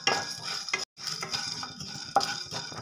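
Cardamom, fennel, cinnamon and cloves roast in a pan for biriyani, with close, quiet stirring and scraping over a soft sizzle and one brief pause.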